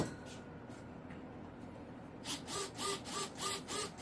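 Servos on an Arrows RC Bigfoot plane sweep the aileron control surfaces, about five quick whirring buzzes in steady rhythm after a stretch of quiet background, close and fairly faint.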